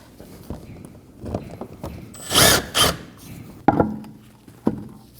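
Power tool driving screws into the front corner of a Volkswagen Passat bumper, with short bursts of whirring and a couple of louder buzzing runs, separated by clicks and handling knocks, close up.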